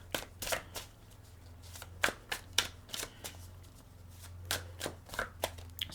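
Tarot cards shuffle up close in quick, crisp bursts of riffling and slapping, scattered irregularly over a quiet room hum.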